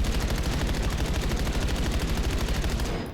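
Rapid automatic gunfire in the shooter game Black Ops 7, a dense unbroken volley of sharp shots for about three seconds, loud and close, then cutting off.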